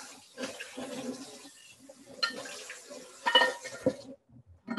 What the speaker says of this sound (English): now I'm also going to kind of rinse out my pan.